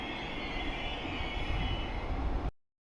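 Passenger train with first-class sleeping compartments rolling on rails in Victoria, Australia: a steady, loud interior rumble with broadband rail noise and a faint high whine, cutting off abruptly near the end.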